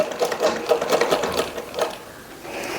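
A sewing machine stitches a neck design on fabric, running close and steady in quick rhythmic bursts before easing into a softer, continuous whir.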